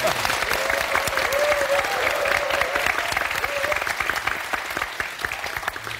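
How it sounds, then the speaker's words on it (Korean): A studio audience at a Korean talk show claps for a former hospital director, loud sustained applause with sharp individual claps, while a voice talks briefly over it. "일단은 여기에서 박수 한번 드려야 될까요?"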